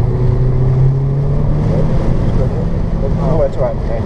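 A car accelerating on an autocross course, the engine note climbing loud and close with a steady drone and a pitch shift as it revs, and speech mixed in with wind buffeting.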